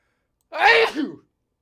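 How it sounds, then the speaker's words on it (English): A single sharp human sneeze sounds near the microphone during a guitar practice session, loud and abrupt, with a short trailing exhale and silence on either side. "I sneezed on my guitar."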